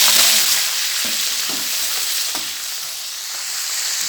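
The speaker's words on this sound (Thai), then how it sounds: "ใส่กระเทียมลงไปผัดแล้วก็ใส่กุ้งลงไปเลยจ้า" Garlic and shrimp stir-fried in a pan for pad thai, a loud steady sizzle with a few soft stirring knocks throughout.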